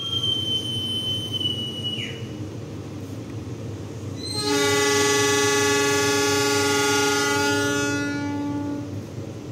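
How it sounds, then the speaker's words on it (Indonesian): Gaya Baru Malam Selatan passenger train departing Klaten station, Indonesia: a brief high squeal first, then a loud sustained horn blast with rich harmonics lasting several seconds over steady rumbling engine noise. "Pukul 10:48 kereta api Gaya Baru Malam Selatan berangkat dari stasiun Klaten."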